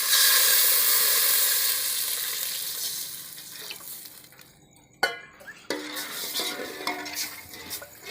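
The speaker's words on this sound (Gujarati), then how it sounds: "હવે આપણે એમાં છાશનો વઘાર કરશું" Buttermilk hits a hot spice tempering in a pan with a loud sizzle that gradually dies down, followed by sharp clinks of a spoon stirring against the pot.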